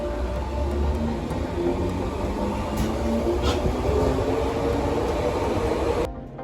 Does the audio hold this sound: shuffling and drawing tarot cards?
no